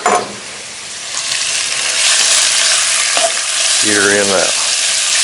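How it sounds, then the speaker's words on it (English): Seasoned chicken browns in a preheated Dutch oven with a loud, constant sizzle and crackle close by. A voice speaks briefly over the frying. "preheated Dutch oven. All we're going to do is this, brown it off."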